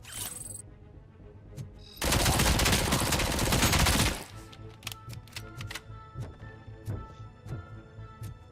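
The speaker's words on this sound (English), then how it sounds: "Oh, assault rifle." A loud, dense burst of assault rifle fire in the shooter game Robocop Rogue City lasts about two seconds, framed by scattered sharp single clicks and thuds before and after.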